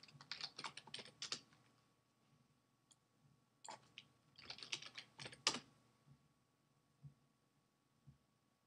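Someone types Excel formatting shortcuts on a computer keyboard: quick bursts of crisp, close keystrokes separated by quiet pauses, with a few isolated taps near the end.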